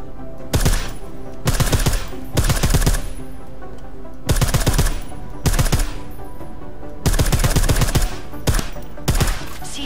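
Rapid bursts of silenced gunfire from Deus Ex: Mankind Divided, loud clustered volleys of sharp suppressed shots in uneven groups separated by short pauses, with no talking.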